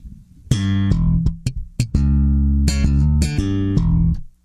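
Bass guitar notes plucked with the thumb with the shape switch out, a run of distinct tones with short gaps and a few percussive ghost notes, loud and close with no talking.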